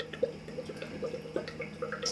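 Water from an aquarium media reactor splashing and trickling into a small container, giving a quiet, steady run of drips and light plinks with no voices.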